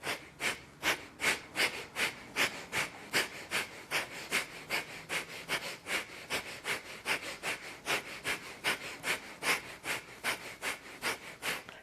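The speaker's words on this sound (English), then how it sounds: "Inhale up, and breath of fire." Rapid yoga breath of fire: about two forceful, evenly spaced nasal exhales each second, sustained steadily and up close, alone with no talking.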